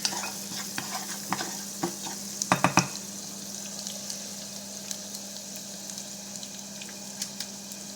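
A spoon stirring sauce for roast pork in a pan: soft scattered scrapes over a low simmer, with a quick burst of clattering strokes partway through.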